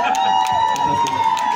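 Crowd noise and cheering from a concert audience at the GeyserHaus in Leipzig, a steady mass of voices and whoops with a sustained tone running through it and no clear breaks across the short stretch.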